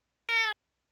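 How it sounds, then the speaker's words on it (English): A single cat named Tiger meows once, a short harmonic call close to the microphone, with silence before and after. "I heard the cat."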